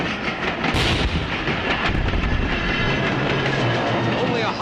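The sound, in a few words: train in a war film trailer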